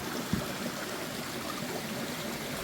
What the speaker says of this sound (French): T'as de l'eau qui sort de là.